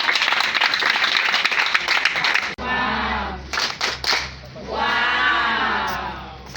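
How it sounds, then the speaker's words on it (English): A burst of clapping from a small group rings out for a couple of seconds, then gives way to a sustained whooshing, sweeping sound. "Let's clap for her."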